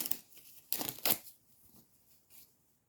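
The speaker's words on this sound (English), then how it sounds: "I just need to cut the rest of the tearaway from here." Embroidery tearaway stabilizer being torn and cut away from a machine-embroidered shimmery Easter basket, heard as a few short, close crisp tearing rips early on, then fainter scattered rustles fading toward the end, with no talking.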